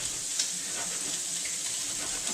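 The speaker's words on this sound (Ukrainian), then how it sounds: "Поки сальце у нас смажиться" Constant crackling sizzle of pork fat frying in a pan, a bright hissing texture with occasional small pops, no voices.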